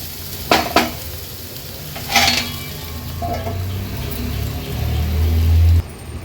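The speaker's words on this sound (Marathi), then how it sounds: "लो फ्लेम करून आता झाकण देऊन मी हा टोमॅटो थोडासा शिजवून घेणार आहे" Tomato masala cooks on a low flame, with a couple of sharp clinks of a metal lid and utensils, then a soft continuous sizzle and low hum as the pan stays covered.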